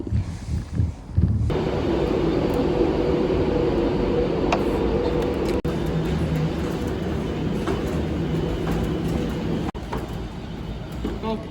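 A train rumbles steadily nearby, a continuous loud roar of a carriage in motion with occasional clicks and knocks, no talking.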